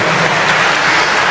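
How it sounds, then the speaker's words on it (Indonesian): Audience applause at an Islamic religious lecture, a dense steady patter of many hands clapping together, continuous and fairly loud throughout with no talking over it. "Beri tepuk tangan dulu. Tepuk tangan dulu."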